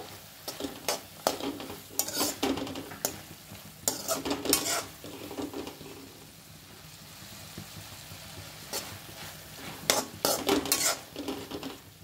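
Carrots are added to a pan of vegetables for pasta and stirred, with bursts of spoon scraping and clatter against the pan over a faint sizzle, then a quieter stretch before more stirring clinks, with no talking.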